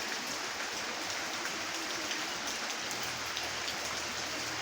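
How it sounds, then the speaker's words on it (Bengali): Heavy rain pours down steadily onto fruit trees, including guava, in a dense, continuous hiss of drops on leaves and surfaces, close and even throughout with no one speaking. "দেখতেই পাচ্ছেন আপনারা যে তুমুল বৃষ্টি চলছে।"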